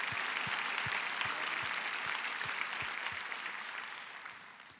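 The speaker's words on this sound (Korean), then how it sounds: "주님께 영광의 박수를 올려드리고 싶습니다." Congregation applause during the Daniel Prayer Meeting testimony, continuous clapping with a steady rhythmic beat of keeping-time claps underneath, fairly quiet and gradually fading toward the end.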